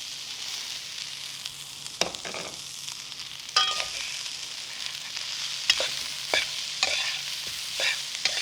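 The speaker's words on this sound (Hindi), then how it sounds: "अब हम इसमें अपने डाल देंगे राइस" Rice stirred into a frying pan for pan-fried chicken fillets, giving a steady close sizzle with scraping spatula strokes and a few sharper clinks against the pan, no voices.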